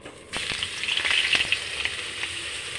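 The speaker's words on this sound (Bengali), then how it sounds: "এবার বেগুনগুলো ছেড়ে দেবো," Eggplant slices drop into hot oil, and a loud sizzle bursts in after a quiet start. The crackling frying stays steady and close for the rest of the clip.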